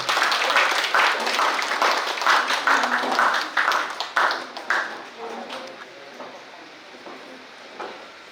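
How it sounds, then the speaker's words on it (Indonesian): A crowd at a school farewell and welcome ceremony at SMK Negeri 4 Bekasi claps in a dense burst of applause that thins and fades away over the last few seconds. "Berikan tepuk tangannya."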